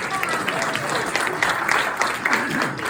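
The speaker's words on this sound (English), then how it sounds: "It's an applause line. Come on." An audience claps in a short burst of applause with voices mixed in, the clapping dense but modest, under and between speech.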